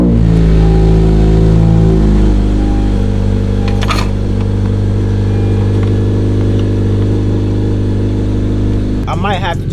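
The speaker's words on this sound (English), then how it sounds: "So let's turn this car on and see what happens." A car fitted with an Invidia N1 exhaust, its downstream pipe recently replaced, cranks over and settles into a loud, steady idle with a deep exhaust drone, then revs briefly near the end.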